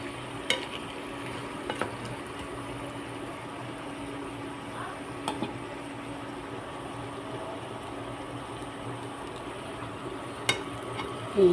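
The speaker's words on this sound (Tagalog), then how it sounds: "Haluin na lang muna natin." Buttered shrimp frying in a pan, a low steady sizzle with occasional sharp clicks of a utensil stirring against the pan, faint background hum throughout.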